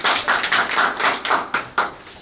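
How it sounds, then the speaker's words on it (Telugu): A crowd claps at a Bahujan Samaj Party joining event in Eluru, sharp hand claps coming in a quick, fairly even rhythm, loud and close with no voices over them. "చప్పట్లు కొట్టండి అందరూ"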